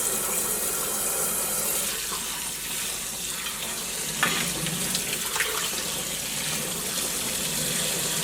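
Ordinary tap water pours steadily over drained boiled noodles in a home kitchen, a continuous splashing rush that lasts the whole stretch with a few brief louder spatters.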